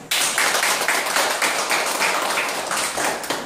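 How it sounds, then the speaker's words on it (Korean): Applause at a Korean history forum, honoring a lexicographer who compiled a dictionary of archaic words; dense, steady clapping from a seated audience fills the whole stretch at close range, with no talking. "박수 한번 쳐주세요."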